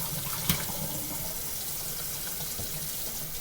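Tap water runs steadily into a bowl of shrimp being rinsed, a continuous close splashing hiss with one brief knock near the start.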